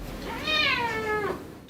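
An abandoned kitten gives a single clear, drawn-out meow, rising then falling, close and distinct over a faint background.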